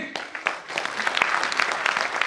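An audience at an awards celebration event claps in a brisk burst of applause that builds and holds for about two seconds. No voice is heard over it.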